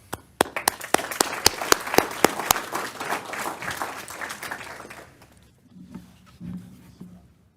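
An audience at a board of education meeting applauds student athletes, starting with sharp individual claps and swelling into dense applause before it fades to quiet murmuring at the end.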